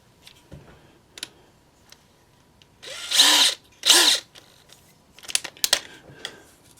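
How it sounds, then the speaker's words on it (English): An ordinary power drill boring a hole in a Proto2000 GP38-2 model locomotive part gives two short, loud whirring bursts close by, surrounded by light clicks and handling taps. "I guess I can go ahead and drill the hole"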